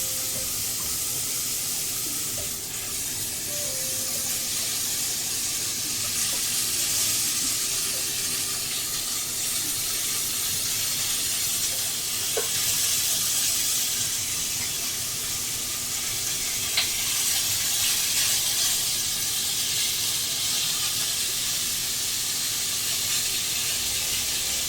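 Pork belly for cassoulet frying in a pan on a stovetop, a steady, bright sizzle that holds evenly throughout with no talk.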